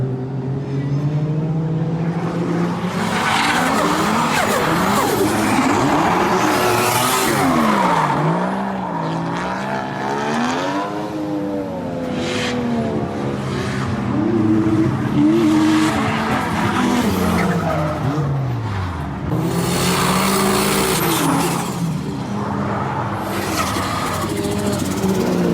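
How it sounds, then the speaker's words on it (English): A Toyota Supra drifts through the first corner at a Japanese drift day, its engine revving loud and continuous with wavering pitch, tires screeching as other cars run nearby. "Let's see if he can drift this first corner."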